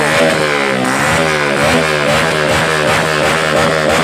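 A motorcycle engine revs loudly and steadily up close during a Thai mechanics' riding test, its harmonic drone rising and falling continuously with no talk over it.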